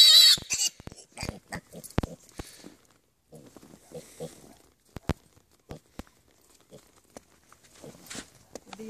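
A pig out in the snow for the first time gives a string of short grunts and oinks mixed with crunching footsteps, close by, with a few quiet human words in between.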